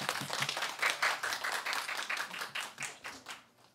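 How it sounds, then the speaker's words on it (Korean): A church youth-service congregation claps together in a steady, moderately distant round of applause that holds evenly and then tapers off toward the end. "다시 한번 박수 전해드립니다"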